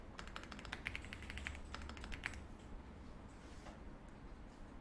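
Rapid, light keystrokes typing text on a computer keyboard, clustered in a quick burst at the start and then thinning out, faint against a steady background hiss.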